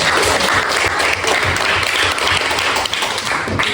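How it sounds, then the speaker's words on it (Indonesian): Loud, dense applause from classmates in a school classroom during a discussion lesson, continuous fast clapping that fills the space steadily throughout with no talk. "Tepuk tangan dulu untuk teman-teman"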